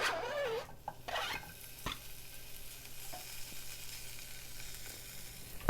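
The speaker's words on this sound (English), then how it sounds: "I love the sound of that sizzle." Cajun bacon pieces frying in a pan on medium heat, giving a steady crackling sizzle throughout, with a few sharp pops and faint scrapes of stirring.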